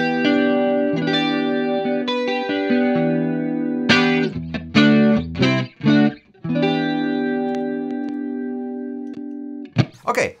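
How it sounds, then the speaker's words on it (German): An electric guitar runs through the chorus effect of a Sidekick pedal into a Tone King Royalist MK3 amp, giving sustained, shimmering chords with a few short muted strums. It plays close and alone, then a brief noise follows at the end. "Und Chorus vom Sidekick."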